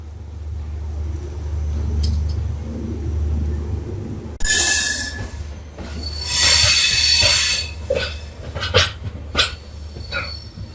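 The 16104 Rameswaram Tambaram Express crosses the new Pamban Bridge, a low steady rumble giving way to loud rushing wheel noise with squeals and clanks, surging and fading in bursts.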